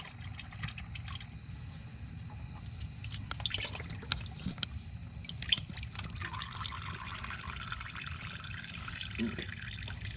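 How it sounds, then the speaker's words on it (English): Motor oil from a Dodge Challenger ScatPack Shaker drains steadily into a drain pan, a quiet, continuous trickle with faint drips and light splashing, close by and alone without talk. "we're just going to leave the pan right here and let it keep draining"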